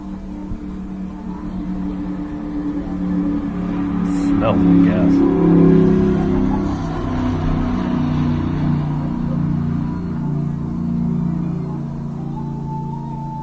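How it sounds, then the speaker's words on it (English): A NASCAR race car on its first lap of a racing experience in 2018 rumbles past on the track, its engine swelling to a peak around five seconds and then fading, heard steadily under someone talking. "I'll just let you hear the car going by a little bit here"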